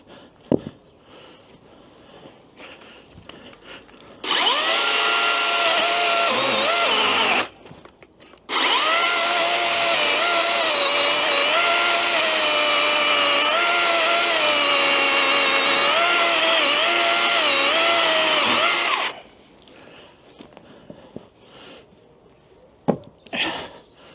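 A DeWalt DCMCS575N battery chainsaw cuts through a wood trunk: a loud, steady, high-pitched motor whine runs for about fifteen seconds, cutting out briefly once before resuming, with quiet pauses before and after.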